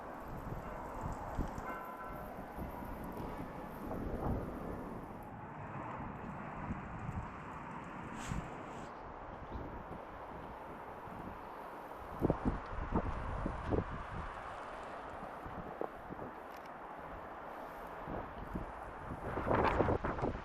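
Strong, cold wind gusting outdoors at the Namur citadel, a broad rushing roar buffeting the microphone with occasional louder blasts and faint rustling throughout.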